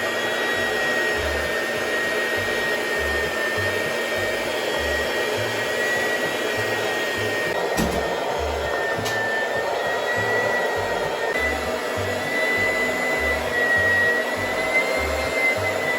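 An electric meat grinder works through pork for Calabrese sausage, its motor giving a constant whirring hum. Soft low thumps pulse underneath at a regular rhythm, and no one speaks.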